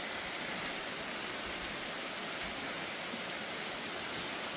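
A winter waterfall in a valley near Hangyeam hermitage by Pyochungsa temple, heard as a steady, dense rush of falling water with no breaks.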